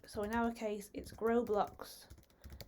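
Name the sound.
typing on a computer keyboard in terminal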